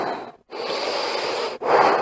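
Deep, forceful rhythmic breathing in and out, chugging like a steam train, loud and close with two brief pauses between breaths and no talk.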